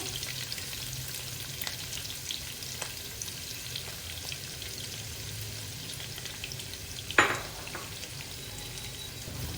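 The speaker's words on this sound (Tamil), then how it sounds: "இது நல்லா வதங்கணும்." Sliced onions sautéing in a pan for Chennai-style prawn dum biryani, a steady soft sizzle and frying hiss throughout with a faint stir or clink near the end, no talking.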